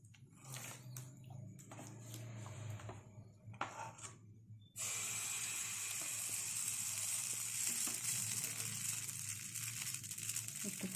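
Semolina batter for chitoi pitha hits a hot pan and a loud, steady hiss takes over after quieter clinks and handling, continuing evenly to the end.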